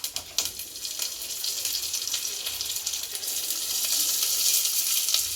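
Cumin, mustard seeds and curry leaves sizzling in hot oil, a steady bright crackle and hiss close by, growing slightly louder toward the end with no voices.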